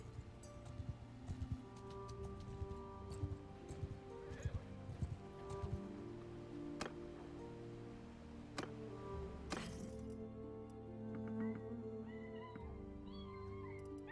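Horses in the video game Bannerlord: rhythmic hoof clip-clops and occasional whinnies over a low steady game ambience and music, with brief speech.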